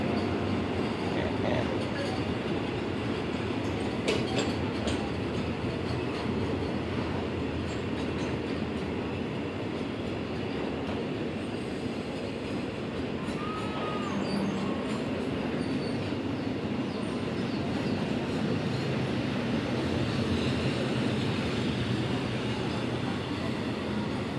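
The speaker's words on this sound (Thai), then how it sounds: "เราให้รถไฟผ่านไปก่อน" A train rumbles past a level crossing near Bang Mun Nak, Thailand, for a long stretch, steady rolling noise with occasional wheel clatter and faint squeals.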